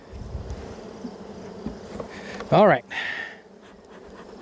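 Honey bees buzz during a hive inspection, a faint steady hum close by under a man's brief speech, with a louder, sharper burst of a bee flying near midway.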